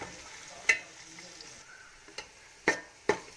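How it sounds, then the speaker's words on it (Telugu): Onions frying in a pan for prawn biryani, a quiet low sizzle broken by a few sharp scrapes of stirring, close by and without speech. "ఇప్పుడు ఆనియన్స్ వేసుకుందామండి. బాగా వేపుకోవాలండి, ఎర్రగా రావాలి."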